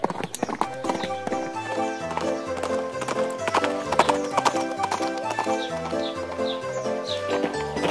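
Cartoon horse hooves clip-clop in a steady trotting rhythm over a lively musical score, close and clear, with a brief whinny-like accent.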